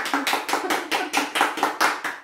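A single person claps alone, about ten sharp, evenly spaced claps, close and clear with no talk over them.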